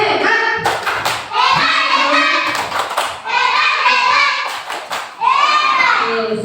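Schoolchildren in a primary classroom perform the rhythmic 'tepuk hebat' clapping cheer, several sharp claps and thumps in quick patterns mixed with loud chanting children's voices.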